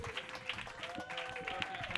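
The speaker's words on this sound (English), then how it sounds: "start clapping right now for CeeKay Brown" An audience at a New York roast battle comedy show claps for comedian CeeKay Brown, a steady patter of hands over two seconds, with a voice and some tonal sound underneath.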